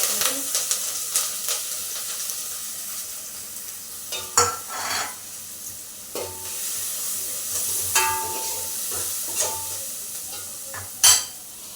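Finely chopped green chillies drop into hot oil with asafoetida, setting off a steady sizzle and hiss, with a few louder stirring scrapes and pops along the way, recorded close.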